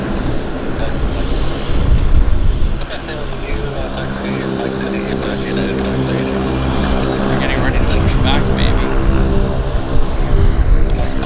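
Loud, steady roar of an airliner jet engine at Vancouver YVR Airport fills the whole clip, with a person talking over it nearby.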